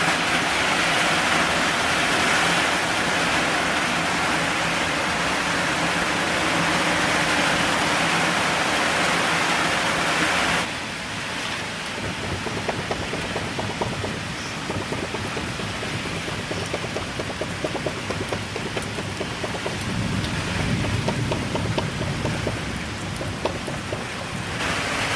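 Steady rain pours down outdoors during a chicken barbecue among friends, a continuous hiss of drops on surfaces that shifts to a rougher, patterning texture partway through, with no voices.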